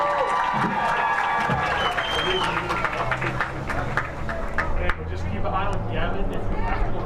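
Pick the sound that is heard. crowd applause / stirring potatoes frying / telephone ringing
crowd applause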